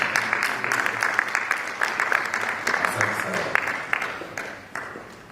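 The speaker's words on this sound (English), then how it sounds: "Clap for her." An audience at the Kenya Space Innovation and Investment Forum 2025 claps in a short, moderately sized burst of applause, with distinct hand claps that fade out toward the end.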